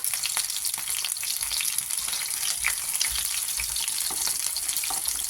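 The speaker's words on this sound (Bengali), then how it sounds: "এখন এই পাবদা মাছটাকে আমি এখানে তেলে দিয়ে দিচ্ছি, একটু ভাজা করে নিব।" Pabda fish frying in hot oil, a dense, continuous sizzle with fine crackles that stays close and even for the whole stretch.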